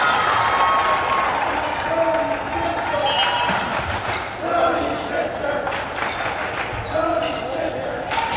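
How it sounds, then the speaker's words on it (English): A student section cheers at a high school volleyball game, crowd noise rising and falling in a busy gym with ball bounces, claps and a commentator talking over it. "Student section cheering Brody's sister."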